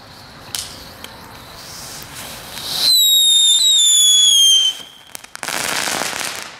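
Leftover consumer fireworks go off outdoors: a few bangs, then a loud, sustained whistling screech from a rocket, followed by a burst of crackling.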